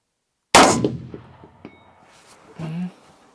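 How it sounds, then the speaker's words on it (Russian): A rifle shot fired at a steel target 400 metres away, with a loud sharp crack, a short decaying echo, then a faint metallic ping of the distant impact and a brief low rumble. "И стреляем еще раз."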